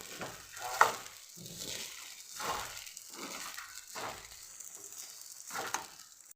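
A sago breakfast mixture is stirred in a pan, with soft scraping and gentle sizzling strokes that repeat in an even rhythm, close and fairly quiet.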